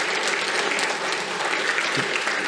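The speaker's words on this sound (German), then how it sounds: "Vielen Dank für die Vorschusslobe in Form von Applaus" Steady, dense audience applause filling a conference hall as a speaker takes the stage at a publishing talk on AI, continuous and close throughout.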